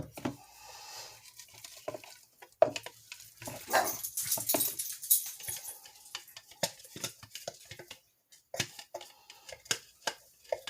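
Several dogs bark in excited bursts, some yips and whimpers mixed in, close by and fairly loud, with short quiet gaps between flurries.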